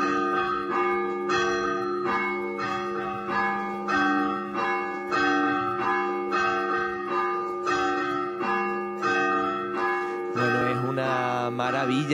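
Church bells rung by hand by a 90-year-old ringer, loud, steady peals with ringing overtones repeating in a regular rhythm throughout, a brief change in tone near the end.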